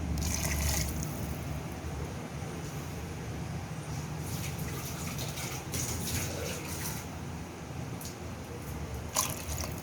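Water is poured steadily into a pot of meat for an Arbi Gosht curry, a continuous close gushing trickle throughout with no talking.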